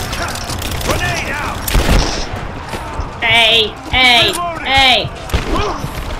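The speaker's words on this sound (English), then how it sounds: "Stop it with the bombs." Grenade blasts and rapid gunfire crackle through a firefight in Rise of the Tomb Raider, with sharp bursts and booms layered under shouting voices and a brief exclamation, all loud and busy throughout.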